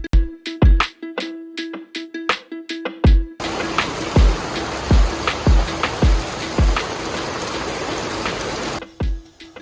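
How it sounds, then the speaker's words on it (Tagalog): Rain falls during a trip to Botolan, Zambales, a broad steady hiss lasting several seconds between loud, sharp thumping knocks that repeat before and through it. "Pero talagang hindi maiwasan na maabutan ng ulan."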